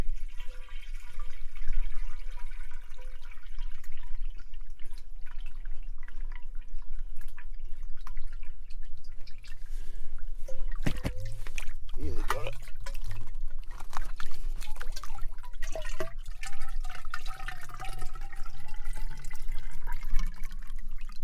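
Water being collected into a container for a survival camp shower, a steady trickling and dripping running through most of the stretch with some clatter midway, and a brief spoken remark.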